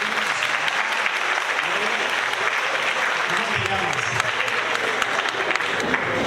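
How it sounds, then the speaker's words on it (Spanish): Audience applause fills a regional development meeting, a dense steady wash of clapping that holds throughout with a host's voice talking over it. "Un aplauso aquí"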